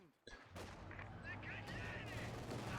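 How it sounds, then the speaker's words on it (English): Rifle grenade blasts boom in a competitive video game match, a sharp opening crack followed by rumbling explosion and gunfire, with a commentator's voice running underneath. "Orangepest once again with the rifle nade"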